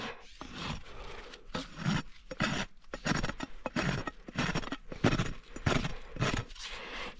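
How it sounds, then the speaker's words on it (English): A hand rasp files across a wild BLM mustang's hoof during a trim, making repeated loud, close scraping strokes in a steady back-and-forth rhythm. "smooth out with my rasp."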